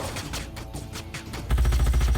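Rapid bursts of gunfire crackle in Age of Wonders: Planetfall, loud and dense rattling shots that grow heavier and more booming partway through, with no talking.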